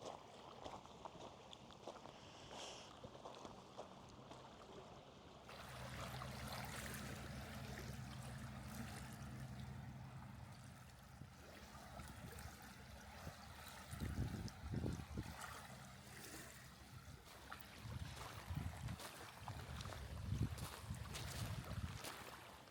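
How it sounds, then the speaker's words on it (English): Flowing river water where the river meets Loch Lomond, a steady broad rush and trickle heard up close outdoors, continuous throughout with some louder low surges and no talking. "the sound of this flowing water is so relaxing"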